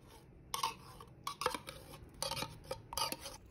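Spoon stirring condensed milk into champurrado in a pot, with clinking and scraping strokes in irregular bursts, close and fairly quiet.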